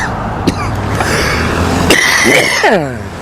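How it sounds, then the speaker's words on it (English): A few short coughs and throat clearings sound close by from a radio show host at a protest outside an FBI field office, separated by brief pauses over a low background hum. "I keep coughing."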